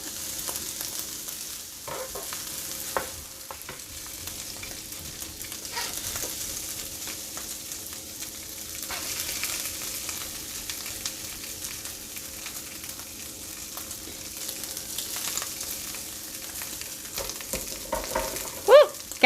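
Shrimp fried rice sizzles in garlic butter on a hot griddle, a steady crackling fry with occasional stirring and scraping clatters, louder tool knocks near the end.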